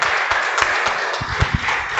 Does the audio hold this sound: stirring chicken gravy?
no